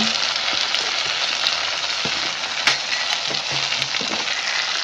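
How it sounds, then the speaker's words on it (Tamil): Onions sautéing in a pan for a home-cooked pasta dish, a loud continuous sizzle close up with occasional scraping stirs and small ticks throughout. "பாஸ்தா வெங்காயம் நல்லா வதங்கிடுச்சு."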